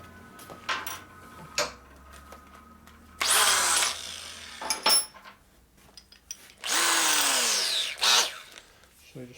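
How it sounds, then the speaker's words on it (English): A power drill spins a 5/8 round deburring burr against a drilled hole in a shop, giving two loud bursts of whirring a few seconds apart with quieter clicks and handling noise between them. "one deburring tool, it's called a burr."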